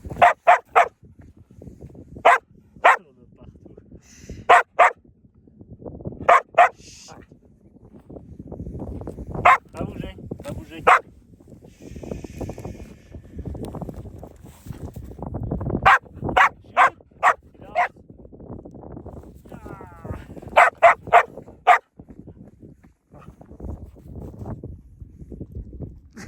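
A dog barks outdoors in falling snow, loud, sharp, repeated barks coming in clusters throughout, while someone talks and coaxes between them.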